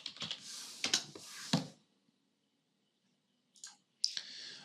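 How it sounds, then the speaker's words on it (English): Computer mouse clicks, a quick cluster of sharp taps at the start followed by silence and then two more isolated clicks, close and dry. "I can do this by simply clicking on the link."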